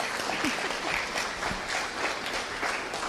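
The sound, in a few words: applause from the audience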